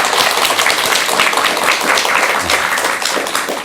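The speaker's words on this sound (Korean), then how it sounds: "큰 박수 한번 주시기 바랍니다" An audience at a Korean Buddhist gathering claps in warm, sustained applause, a dense, even patter of many hands throughout.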